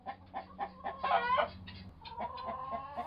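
A chicken clucks in a quick run of short, close, repeated calls, rising into a brief louder cackle before settling back into steady clucking.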